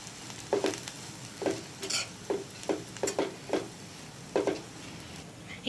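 A spoon scrapes and stirs ground tender tamarind-leaf chilli powder into frying onions in a pan, about a dozen irregular clinks and scrapes over a steady low sizzle, close by.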